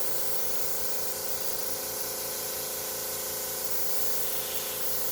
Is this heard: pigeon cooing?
no